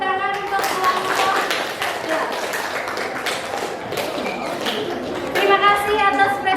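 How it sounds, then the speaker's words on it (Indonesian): Classroom applause for a student group after their presentation, a steady patter of many hands clapping with taps and thumps that swells near the end while talk carries on underneath. "tepuk tangan untuk kelompok"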